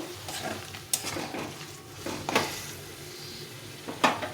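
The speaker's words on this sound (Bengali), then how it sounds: "দিয়ে একটু নেড়ে চেড়ে নেব" A spoon stirring yam and potato curry in a pan over a low simmering sizzle, with three distinct metallic knocks against the pan spaced out over several seconds, no voices.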